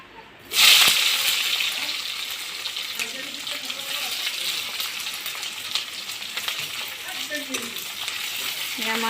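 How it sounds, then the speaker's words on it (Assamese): Chopped onions hit hot mustard oil in a pan with a sudden loud sizzle, then settle into a steady close crackling fry with faint stirring. "ইয়াত মই কাটি থোৱা পিঁয়াজখিনি দি দিম।"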